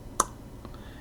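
One sharp mouse click in the Tor Browser stands out, followed by a couple of fainter clicks, close and brief against a quiet background with no talking.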